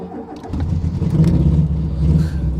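A car engine revs hard through a loud, rumbling exhaust, the deep roar building and holding steady for a couple of seconds.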